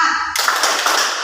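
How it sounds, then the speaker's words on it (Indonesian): A group of children in a classroom guidance session clap together in a quick, rhythmic chant pattern, a dense burst of loud clapping that follows a brief voice at the start. "Tepuk semangat."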